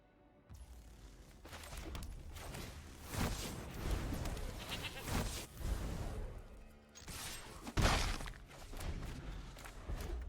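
A goat bleats repeatedly in the MTG Arena digital card game, wavering cries layered over busy game effects and clattering mechanical sounds, fairly quiet overall.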